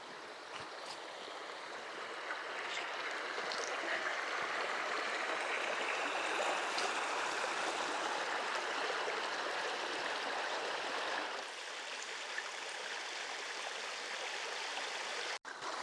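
A forest creek in Montana flows steadily with a continuous rushing, babbling wash of water, fairly soft and even, with no voices.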